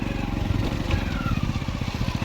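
A motorcycle rides along a muddy track between wet fields, its engine chugging in a steady, loud, pulsing rhythm throughout.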